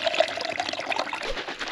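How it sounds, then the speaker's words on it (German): Water pours steadily into a shaker holding peach iced tea powder, a half litre going in as one close, continuous splashing trickle with no talk. "Ich nehme jetzt mal hier den Pfirsicheistee in euren Shaker rein, mit einem halben Liter Wasser aufgießen"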